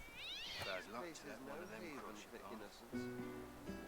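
A cat meows and yowls in the video game Divinity Original Sin 2, several rising and falling wails in a row, with talking voices mixed in and a steady tonal sound near the end.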